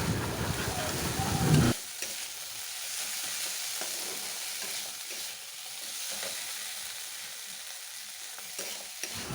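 Bhaja frying in a pan for a morning breakfast, nearly done and turning reddish, with a loud burst of sizzle at the start settling into a steady, softer crackle that continues alone throughout.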